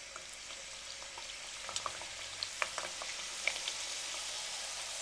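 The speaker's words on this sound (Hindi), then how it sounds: "कुकिंग ऑयल अच्छे से हमारा गर्म हो चुका है। अब इसमें हम ये फ्राई कर लेंगे।" Namak pare frying in hot cooking oil in a kadhai make a steady, soft sizzle throughout, with scattered small pops and crackles rising over the bubbling.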